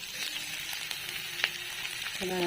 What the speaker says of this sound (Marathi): कांदा भाजून घ्यायचा आपल्याला चांगला